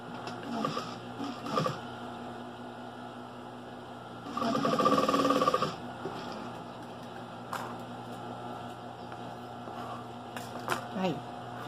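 A sewing machine runs in one short burst of stitching on a knit fabric rug with a pointed-edge design, loud and steady for about a second, with light handling noises before and after.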